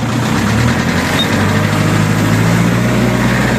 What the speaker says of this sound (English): So we're running the tractor today.